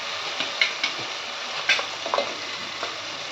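Masala paste sautés in oil for a Malvani mutton rassa, a steady sizzle broken by quick scraping and clinking strokes of a spoon against the pan, close and unaccompanied by talk.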